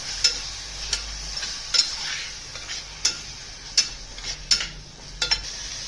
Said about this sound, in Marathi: टोमॅटोची प्युरी टाकायची. ही पण चांगली परतून घ्यायची.